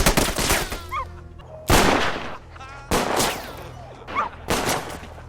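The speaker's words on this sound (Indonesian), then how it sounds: "para tentara Nazi tertawa menembaki dan menakuti hewan ini" Nazi soldiers in an action film fire bursts of gunfire while frightening an animal, several loud separate volleys cracking out with short gaps between them and a faint animal cry or two in the pauses.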